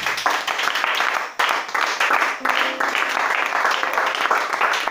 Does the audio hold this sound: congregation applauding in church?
yes